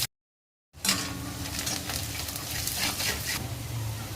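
Large chopped onion dropped into a pan with fried cumin sizzles steadily while being stirred, close and continuous after a brief silence.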